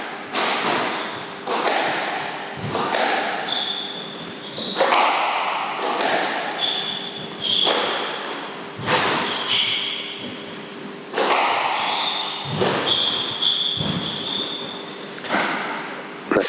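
A squash ball struck hard and crisp in a professional match, a steady run of sharp thuds and wall impacts every second or so, with squeaking shoes and faint crowd or commentary underneath.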